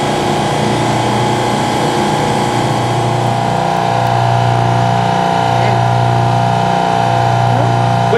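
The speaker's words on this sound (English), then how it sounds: "With the pump running" A Therma Kleen Ultra 250 pressure washer runs steadily, its pump engine giving a loud, constant mechanical hum and drone with a low throb, unbroken throughout.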